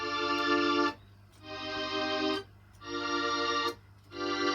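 A string synthesizer played with a lengthened attack, so each sustained chord swells in slowly and then cuts off like reversed tape, repeating in three or four long rising blocks separated by brief gaps.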